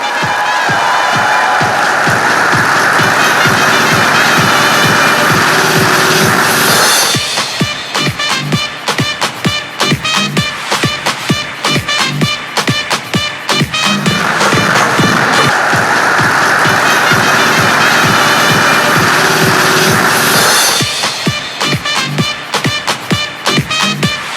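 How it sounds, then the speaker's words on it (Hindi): Loud, sustained audience applause at a topper felicitation award ceremony, dense clapping swelling into bursts of cheering with rhythmic pulses, loud and close throughout. "आप सभी की जोरदार तालियों के साथ में can we request the award."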